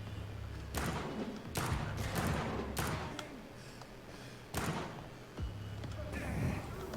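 Gunfire in the vampire game Vampyr: several sharp, loud bursts of shots and heavy thuds scattered across a few seconds, with a voice talking in between.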